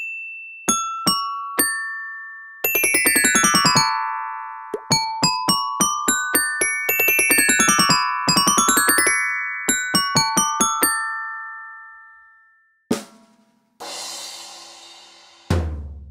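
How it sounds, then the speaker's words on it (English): Bright xylophone notes ring out in the Metamorphabet alphabet game, single tones, then rapid rising and falling runs and sustained chords, ending with a couple of clunks and a burst of noise. "Xylophone."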